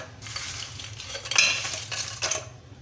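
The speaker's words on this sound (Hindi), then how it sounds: "इसको अच्छी तरह से फेंट लेंगे इसी तरह, ये देखें, ताकि सारी दही फेंट जाएंगे।" Yogurt for salted Punjabi lassi is whisked by hand in a vessel, giving close, busy sloshing and clattering strokes in an uneven rhythm, moderately loud with no talking.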